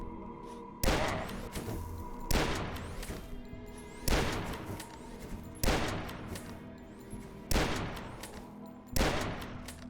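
Hunting rifle shots in the retro shooter DUSK, six loud, sharp cracks spaced a second or two apart, each followed by a ringing metallic tail over a steady background hum.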